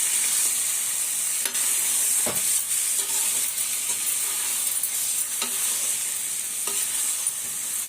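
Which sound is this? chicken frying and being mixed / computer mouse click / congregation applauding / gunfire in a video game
chicken frying and being mixed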